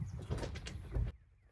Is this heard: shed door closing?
yes